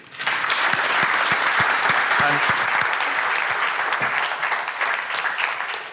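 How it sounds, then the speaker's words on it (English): An audience at a conference speaker presentation breaks into sustained applause, dense and fairly close, with individual claps standing out and a few voices mixed in. "Another round of applause, please"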